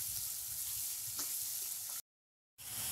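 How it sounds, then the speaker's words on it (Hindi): Onions fry on a medium flame for tomato paratha, a soft, low sizzle with light stirring that cuts out completely for about half a second before resuming. "प्याज को हम तलाते हुए सॉफ्ट होने तक भून लेंगे।"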